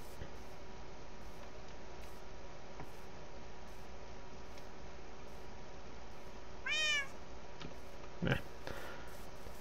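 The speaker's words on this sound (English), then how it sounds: "Oh, that's a wither cat." A wither cat in the Minecraft game meows once in a short rising-falling cry over a constant low game hum, followed by a brief thud, no talking.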